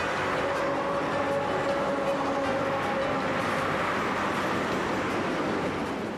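A train running on an Italian railway, a steady loud rolling rumble with faint wheel clatter and a sustained whine, close by and without voices.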